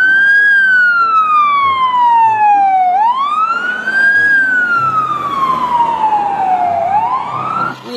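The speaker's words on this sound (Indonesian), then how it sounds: "Wah, lihat di sini ada truk pemadam kebakaran teman-teman." A toy fire truck's electronic siren wails up and down in slow, steady sweeps, loud and close, with no talking over it.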